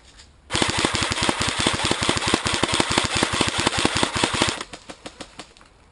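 Rapid automatic gunfire in a shooting video game, a long, steady burst of evenly spaced shots lasting about four seconds, then a few scattered trailing shots.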